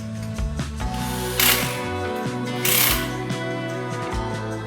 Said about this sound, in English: always tighten the lugs in a star-shaped pattern